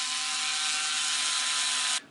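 A Bosch power screwdriver runs steadily for about two seconds, with a constant high whirring motor tone at close range, then stops abruptly.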